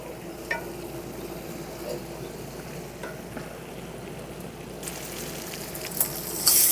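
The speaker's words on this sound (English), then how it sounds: "This meat's almost totally browned up" Beef browns in a cast iron pan, a low steady sizzle with faint crackle, occasional soft ticks and scrapes, and a brighter burst of frying near the end.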